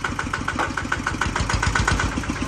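A farm tractor with an RT140 engine runs steadily with a chugging, mid-low rumble and regular pulsing beats, close and fairly loud, no talk over it.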